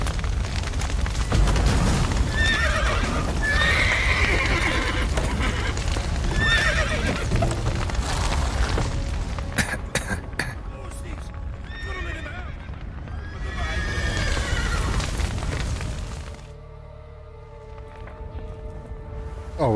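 Horses whinny and neigh repeatedly in a burning stable with a collapsed roof in the video game The Witcher 3, amid a dense roar of fire and rumbling crashes, with hooves clattering and a game soundtrack underneath.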